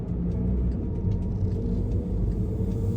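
Car passing on a road during a driving test route in Orillia, a steady low rumble of the engine and tyres lasting a few seconds, fairly close and continuous.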